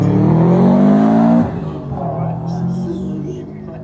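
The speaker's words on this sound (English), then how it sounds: "Spinning some tires." A 1990s supercar with gold factory wheels and a big rear spoiler spinning its tyres at a hill climb, with a loud, close engine roar and tyre noise that drops suddenly to a lower rumble.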